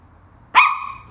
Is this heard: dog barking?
yes